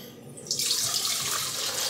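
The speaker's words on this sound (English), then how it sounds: "We're going to put some warm water." Warm water at 110 degrees gushes steadily from a tap into a stand mixer bowl, quickly rising to a loud, continuous pour.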